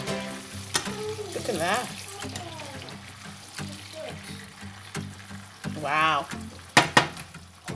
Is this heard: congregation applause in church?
no